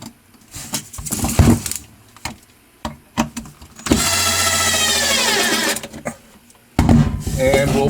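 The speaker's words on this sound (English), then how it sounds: "And we'll put the other screws in." A power drill drives screws into kitchen shelf dividers with a sustained whirring run in the middle. Clicks, knocks and handling noises come before and after, and a short second drill burst follows.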